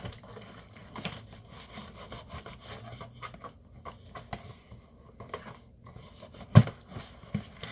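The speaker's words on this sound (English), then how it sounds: "I am using a knife" A knife cuts open plastic toy packaging for a WWE Wrestlemania ring cart figure set, giving close, quiet scraping and rasping strokes with a few sharper snaps near the end.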